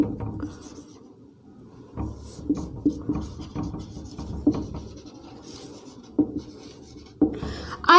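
Chalk or marker scratches across a classroom board as a sentence is written during an English grammar lesson on pronouns. The strokes come in short, uneven taps and scrapes, fairly close, with brief pauses between words and no talking.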